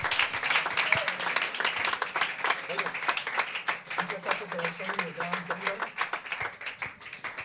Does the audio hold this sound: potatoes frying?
no